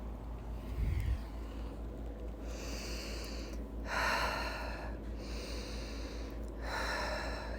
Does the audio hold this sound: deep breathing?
yes